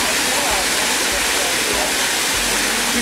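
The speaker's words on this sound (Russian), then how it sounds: "вот она, первая локация медиаэкспедиции – водопад «Кольцо»" The Koltso waterfall in the mountains roars as a loud, steady broadband rush of falling water, close and constant throughout.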